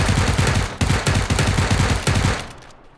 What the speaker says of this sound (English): I'm gonna shoot him.